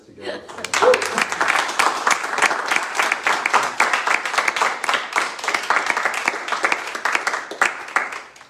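An audience at a poetry reading gives sustained applause, many hands clapping in a dense, steady patter that fades toward the end, with a brief voice near the start.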